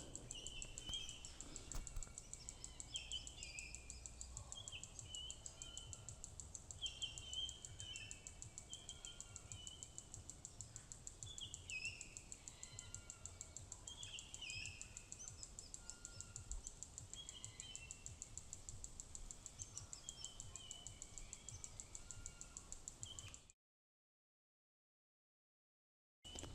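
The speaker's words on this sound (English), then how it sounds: "Listen to these birds." Several birds chirp and sing in repeated bursts over a steady insect drone at a quiet bush campground, Charlies Flat, with no talking; the sound cuts out near the end.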